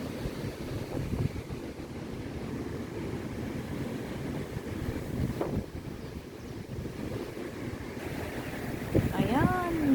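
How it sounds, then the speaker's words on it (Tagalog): Strong typhoon wind during Typhoon Ragasa in Hong Kong roars steadily against the microphone with surging gusts, and a brief bird-like chirp comes near the end. "Malakas pa rin ang hangin guys."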